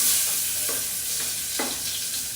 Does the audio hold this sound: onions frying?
yes